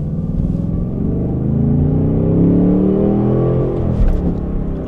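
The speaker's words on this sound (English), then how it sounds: "rev match downshifting makes you feel like an absolute champion" Engine of a 2024 Ford Mustang GT with a six-speed manual, a loud close rumbling V8 rising in pitch through a quick rev-match blip on a downshift, then easing back to a steady cruise hum, heard without talking.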